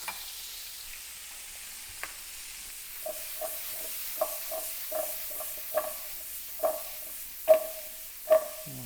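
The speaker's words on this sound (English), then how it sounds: "Saute this for a little while." Tomato paste and garlic sauté in a pan for boeuf bourguignon, a soft, steady sizzle punctuated by increasingly regular scraping stir strokes that grow louder toward the end.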